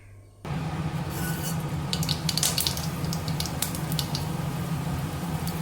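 Mustard seeds splutter in hot oil while tempering for a beetroot and green peas side dish, a dense close crackle with bright popping bursts, starting abruptly and continuing steadily.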